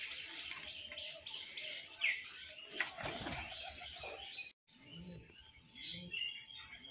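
Young and female pigeons eating salt and lemon nearby, with bright chirps and tweets, a burst of flapping wings partway through, and soft scattered calls afterward.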